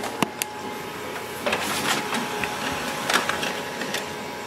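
An HP LaserJet Pro MFP 3101fdw laser printer runs a print job, a steady mechanical whir broken by clicks and soft thumps of paper feeding, close up and alone.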